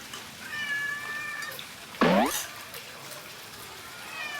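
A cat gives one loud, close meow with a rising then falling pitch, surrounded by quieter background sounds and faint tonal noise.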